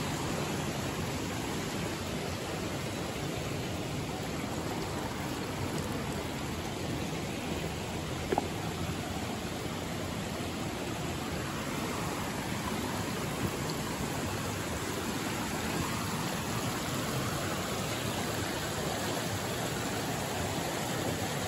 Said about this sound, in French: Moi, j'adore les zones de cascade, de chute.